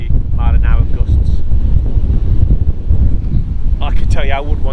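Gusty wind of about 18 to 20 mph buffeting an outdoor microphone, a loud rumbling roar that surges and eases, with someone talking briefly at the start and again near the end.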